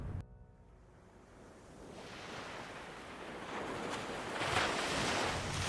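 Soft waves wash against a model sand barrier island with a breathy rushing, growing gradually louder toward the end, alone without voices.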